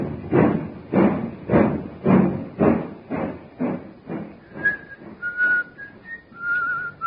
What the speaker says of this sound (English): He's whistling merrily